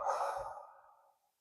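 A single long, soft exhale during a beginner yoga exercise for shoulders and wrists, breathy and close, fading out over about a second with no talk.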